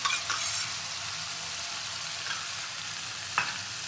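Sour yogurt goes into spices frying in a pan for a capsicum rohu fish curry, giving a steady soft sizzle with a few brief scraping stirs.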